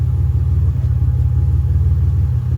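A car engine idles steadily after a cracked radiator repair, a constant loud low rumble with no voices over it.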